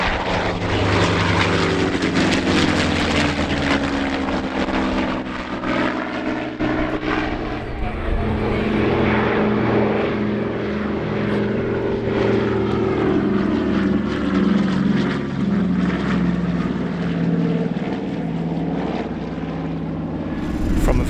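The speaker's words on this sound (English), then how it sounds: "TF-51D Mustang." A TF-51D Mustang, a vintage propeller fighter, passes at the Biggin Hill Festival of Flight, its loud, steady engine roar filling the scene and swelling gradually over about twenty seconds on a windy day.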